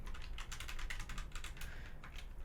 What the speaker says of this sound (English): And if I start typing in this file,